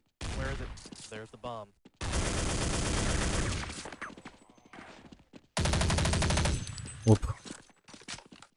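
In Counter-Strike 1.0, an MP5 submachine gun fires in long rapid automatic bursts separated by short gaps, loud and close, with footsteps and other game sounds between bursts.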